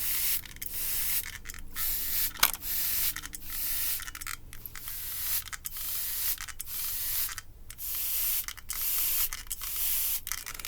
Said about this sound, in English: I'm just spraying until these guys are getting a little dry, these bags.